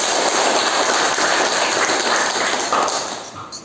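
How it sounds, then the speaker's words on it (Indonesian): A classroom of students applauding together, a loud dense patter of clapping that holds steady and tapers off near the end. "Tepuk tangan untuk kelas kita"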